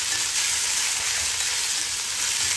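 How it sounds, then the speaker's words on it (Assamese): Onions and panch phoron fry in a hot pan in a home kitchen, giving a steady, dense, close sizzle that holds evenly for the whole stretch with no voices. "পিঁয়াজখিনি অকণমান ভাজি লৈছোঁ।"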